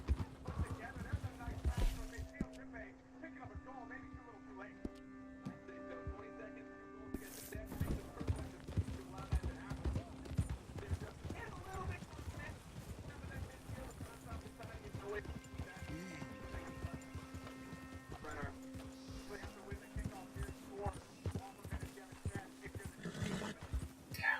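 Red Dead Redemption 2 horse sounds: repeated hoof clip-clops and a few whinnies over steady background music and effects, with a voice talking intermittently.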